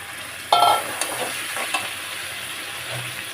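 Water is poured into chicken malai curry frying with potatoes in a pan. There is a sudden sizzling hiss, then the scrape and clatter of stirring, and the frying fades to a softer simmer.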